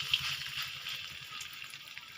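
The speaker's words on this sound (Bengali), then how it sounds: "তো এগুলোকে আমি এবার উল্টে পাল্টে ভালো করে লাল করে ভেজে নেব" Small round khesari dal fritters frying in hot oil in a kadai give a steady, soft hiss and crackle, faint and continuous with tiny bubbling pops.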